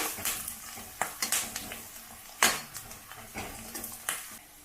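Onions fry in oil in a pan while a utensil stirs them, giving repeated clinks and scrapes in an uneven rhythm over a soft background sizzle, fairly quiet and close.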